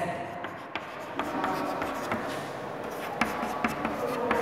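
Someone writes out a maths equation by hand, the scratchy strokes of pen or chalk coming in short repeated bursts, close and steady beneath a voice explaining the steps.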